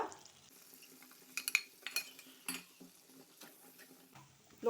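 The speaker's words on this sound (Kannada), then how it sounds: "ಈ ಮೈದಾವನ್ನು ಬಟರೊಂದಿಗೆ ಚೆನ್ನಾಗಿ ಫ್ರೈ ಮಾಡಬೇಕು" Maida flour being fried in butter in a pan and stirred with a spoon: faint scraping and sharp clicks of the utensil against the pan, scattered irregularly over a quiet low sizzle.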